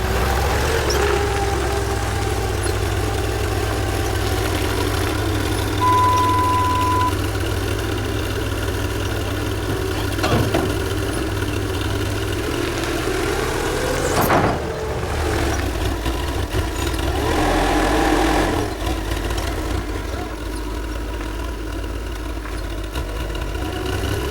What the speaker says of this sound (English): So we got the big tractor hooked up to the field cultivator.